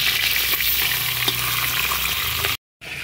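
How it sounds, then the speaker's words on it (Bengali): Loud, continuous sizzling and crackling of a katla fish head frying in oil, close up and without talk, cutting out briefly near the end. "এখানে কাতলা মাছের মাথা ভাজছি"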